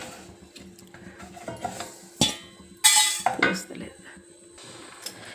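Fried moong dal tipped from a pan into a bowl in a home kitchen, giving a few sharp metallic clinks and scraping rattles of utensils against cookware, with quieter handling noise between them.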